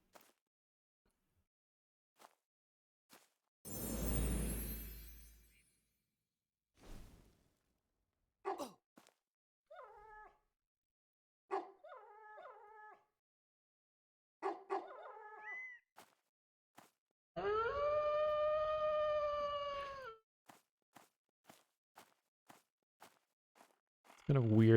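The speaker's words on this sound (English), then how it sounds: "It's kind of weird as a death noise to have like a full-on howl." A full-on howl serves as a character death noise in the pre-alpha EverQuest-inspired MMO EverCraft Online: a sustained, wavering tone lasting a couple of seconds, set among scattered game clicks, short chirping effects and an earlier loud noisy burst.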